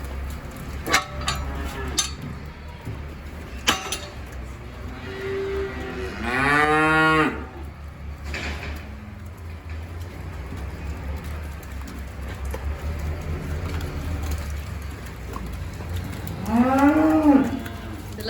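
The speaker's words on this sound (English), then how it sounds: "go let the cows out." Cattle let out of a shed onto fresh silage moo several times, with long harmonic calls around the middle and again near the end, loud and close over steady barn noise.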